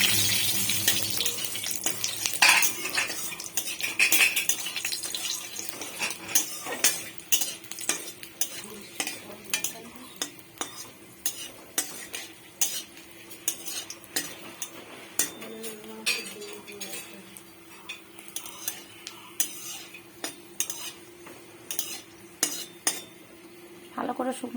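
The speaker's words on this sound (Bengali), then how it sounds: "তো এখন তেলের মধ্যে দিয়ে দেব শুকনো লঙ্কা। শুকনো লঙ্কাটা একটু বেশি ভাজতে হবে।" Dried red chillies fry in oil in a pan for dal, a soft sizzle beneath a near-constant run of metal spoon clinks and scrapes as they are stirred.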